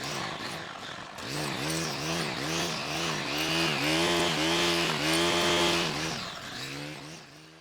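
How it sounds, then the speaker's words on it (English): A Stihl trimmer fitted with a scratcher tooth circular saw blade cuts through thick, tall weeds. The engine revs up and down in repeated rising surges, loud and close, with no talk. "let's go do some trimming with our scratcher tooth circular saw blade"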